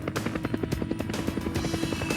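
A helicopter hovers close by, its rotor beating in a rapid, steady chop with a constant engine whine beneath, loud and continuous with no voices.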